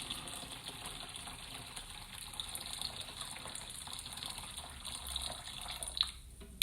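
Water runs steadily from a tap with a continuous gushing hiss, filling a container at close range, with no speech over it.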